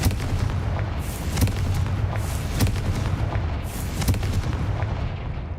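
Bombarda and Confringo explosion spells go off in the Hogwarts Legacy video game, a dense run of booming blasts and bursts over a constant rumbling background, with no speech.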